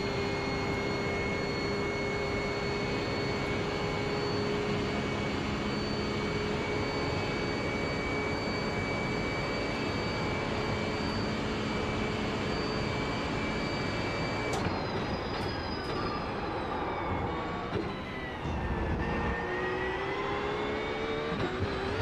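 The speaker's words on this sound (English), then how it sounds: "It's a faster class car approaching." A faster-class race car approaching in the iRacing sim at a Le Mans practice session, heard as a loud continuous engine drone with steady tones that shift in pitch partway through as another engine closes in.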